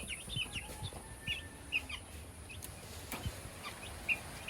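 Village chickens clucking softly a short way off, a few scattered calls standing above a quiet, low background.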